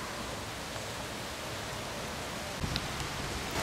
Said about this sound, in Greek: έπιασε βροχή